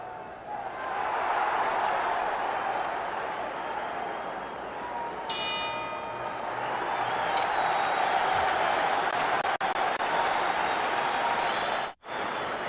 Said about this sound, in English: you can hear that tremendous roar in the background